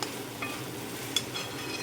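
Okra stir-fried in a pan over low heat for a Maharashtrian bhaji, a low steady sizzle with faint occasional spatula clinks, close and without talk.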